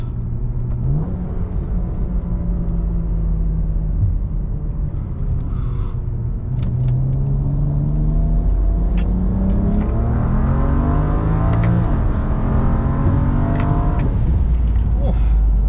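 A BMW with an N54 engine accelerating hard from 60 to 120, its loud engine climbing in pitch through several gears with brief dips at each shift, over a constant road rumble.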